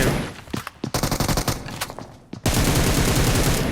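Pistol shots in the battle royale game PUBG Mobile: a handful of sharp separate cracks in the first half, then a brief pause and a loud continuous burst of rapid fire until the end.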